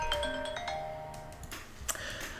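A phone rings during a recording, a chime-like electronic tone with a few sustained, ringing notes and then a short break, no voices.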